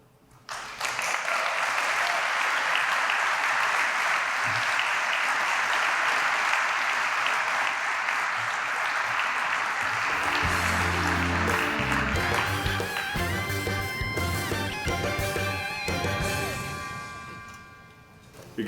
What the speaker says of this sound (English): I thought we'd get a little bit louder applause